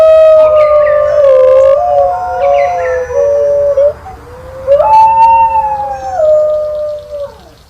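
A New Guinea singing dog howls close and loud in a series of long, gliding, warbling tones that rise and fall in pitch, with brief breaks between notes.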